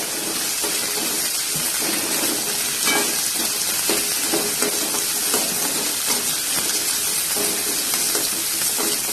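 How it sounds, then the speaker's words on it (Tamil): Shallots, a small piece of ginger, garlic cloves and green chillies sautéing in a pan for vazhakkai kuzhambu, a dense steady sizzle with frequent stirring scrapes, close and fairly loud with no talk. "10-15 சின்ன வெங்காயம், ஒரு சின்ன துண்டு இஞ்சி, 7-8 பல்லு பூண்டு, 2 பச்சை மிளகா போட்டு நல்லா வதக்கிக்கலாம் எல்லாத்தையும்"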